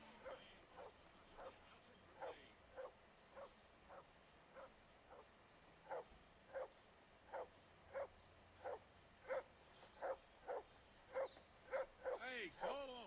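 Repeated dog barks from the video game Kingdom Come: Deliverance 2 come as a steady, evenly spaced series of sharp yaps that grow louder toward the end, where a voice begins over the last barks.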